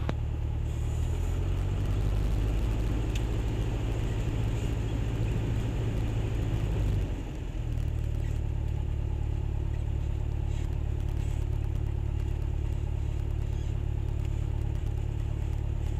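American Champion Super Decathlon aerobatic airplane engine at full throttle on takeoff, a loud continuous droning roar from inside the cockpit with a brief dip midway, no talking.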